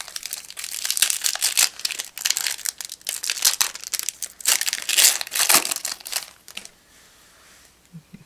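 Close, loud crinkling and tearing of a foil Yu-Gi-Oh Cybernetic Revolution trading card pack being ripped open, in bursts of crackling rustle that fade to quiet at the end.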